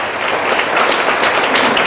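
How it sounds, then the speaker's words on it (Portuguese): A church congregation applauds during an evening worship service: steady, dense clapping from many hands that fills the whole stretch at an even, fairly loud level, with no speech over it. "aplauda o Senhor e agradeça a Ele mais uma vez"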